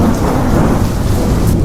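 Heavy thunderstorm rain pours down under a deep, loud rolling thunder, a dense unbroken roar filling the short stretch without any talk.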